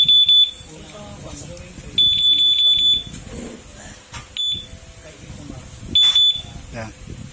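Keyless alarm on a Honda Click V3 motorcycle sounds in short bursts of high electronic beeps, several quick pulses at a time with pauses between, close and loud over background talk and handling noise.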